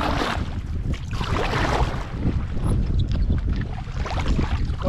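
A solo canoe on open water in Agder, Norway, paddled by someone standing up, with rhythmic paddle splashes and sloshing close by and a heavy rush of wind over the microphone throughout.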